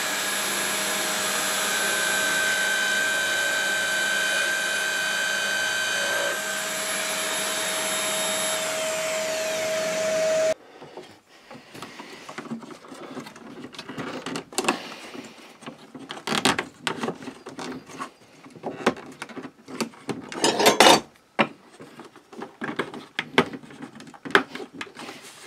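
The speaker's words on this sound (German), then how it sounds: "Und da schneide ich jetzt mal ein Loch rein" A saw cuts a hole into a thin wooden board while building a wagon vise, heard as a steady droning motor for ten seconds followed by a series of irregular, louder rasping bursts and clatters.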